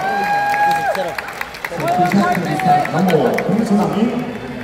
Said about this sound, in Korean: 응원의 박수 한번 보내주시기 바랍니다.